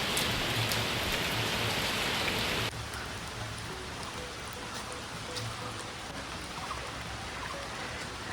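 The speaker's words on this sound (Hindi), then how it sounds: "बारिश आ रही है।" Rain falls steadily at the Beatles Ashram, Chaurasi Kutia, an abandoned jungle-overgrown site near Rishikesh, a dense hiss of drops on surfaces that drops abruptly in loudness partway through, with no talk.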